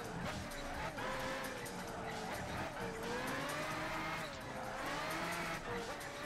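A race car engine held at high revs in Gran Turismo 5, a steady wavering drone with rising and falling pitch sweeps, fairly quiet and continuous throughout.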